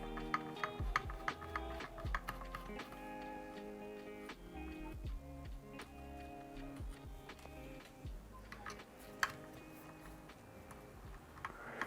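Small screws come out of the ESC circuit board inside a pair of Gyroor S300 hovershoes during a teardown, making a steady run of close, faint metallic ticks, clicks and light handling rattles.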